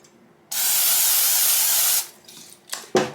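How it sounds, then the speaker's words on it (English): A single continuous hiss of an olive oil aerosol spray over okra lasts about a second and a half, close up, followed by a few small clicks and knocks. "with my olive oil spray, I'm going to spray the tops of our okra"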